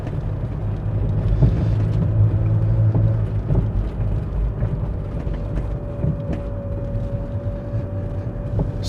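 An old Mercedes-Benz car accelerates with a steady engine rumble throughout, the pitch shifting partway through as the transmission changes gear, heard from inside the car.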